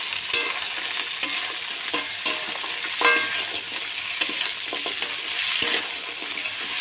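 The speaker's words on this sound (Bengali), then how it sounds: "কাঁকড়াগুলো ভালো করে ভেজে নেবো, একটু লাল লাল করে।" Crabs frying in a hot pan, with a close, bright sizzle and repeated sharp scrapes and clatters of stirring, no voices.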